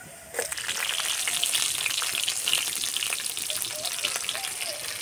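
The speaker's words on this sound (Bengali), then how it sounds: "কড়াই দেব সাদা তেল, তেলে দেবো গোটা জিরে, কাঁচা লঙ্কা" Whole cumin seeds and green chilies dropped into hot white oil in a wok, a sudden burst of crackling sizzle that stays busy and spitting throughout.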